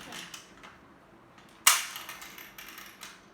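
A toy gun fires once at a score target, a single sharp snap standing out clearly over faint background rustle in an otherwise quiet indoor space.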